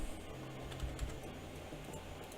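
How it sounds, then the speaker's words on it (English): Quick keystrokes on a computer keyboard inside the Shadowrun Dragonfall video game, soft clicking taps over a steady low hum of game ambience. "need to actually click the button before I start typing"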